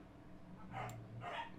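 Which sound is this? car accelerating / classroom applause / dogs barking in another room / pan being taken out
dogs barking in another room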